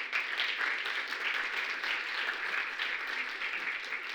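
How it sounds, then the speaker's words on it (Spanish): An audience gives a speaker a round of applause after a presentation, a fairly faint, even wash of many hands clapping with no talking over it. "Un aplauso para José Luis"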